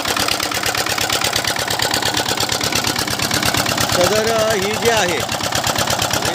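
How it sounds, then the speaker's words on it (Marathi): A water-cooled engine runs an HTP sprayer with a loud, steady, fast-pulsing chug heard close by, while someone speaks over it and a brief whine rises near the end. "HTP मधून जे रिटर्न पाणी जे असते ते पाणी वॉटर कोल्ड इंजिन आहे बघा मित्रांनो"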